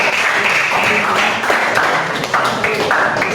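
A classroom of students gives a patterned rhythmic clap for a classmate, a close, lively burst of many hands in a quick cheer-like sequence, with a voice briefly mixed in.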